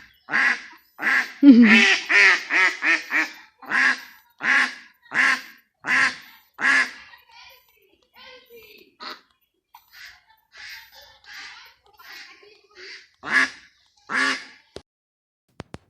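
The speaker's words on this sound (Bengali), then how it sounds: "হাঁসগুলো কি বলছিল বুঝতে তো কিছুই পারলাম না" Several ducks quack in close, loud bursts, a rapid run of calls at first that thins into fainter, scattered quacks before a last few louder ones.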